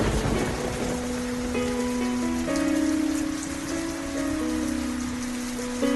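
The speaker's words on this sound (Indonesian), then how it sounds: "Namun hujan tak kunjung reda." Steady rain falls with a dense hiss on surfaces, while a faint tonal hum drifts in the background.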